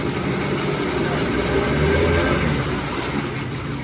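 A Hidea 15 PRO two-stroke outboard motor idles with a steady, fairly loud low drone that swells slightly midway as it is shifted, running continuously throughout without clear speech.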